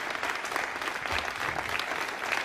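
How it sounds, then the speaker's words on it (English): Sustained applause from a room of people following satellite separation during a Vega rocket launch, a steady dense clatter of clapping throughout without pause. "There's the final good news and a lot of applause."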